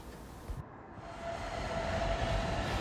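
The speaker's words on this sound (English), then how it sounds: "This direct rail service's freight train is passing through Gretna Junction and is crossing the River Sark" Freight train crossing the River Sark at Gretna Junction, a steady rolling rumble that builds gradually and stays continuous and moderately distant, with a faint tonal whine running through it and no voices.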